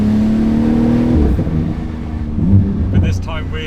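Porsche 911 GT2 RS with 777 hp revving up a mountain pass, a steady loud engine drone that shifts pitch midway as it pulls hard, with talk over it.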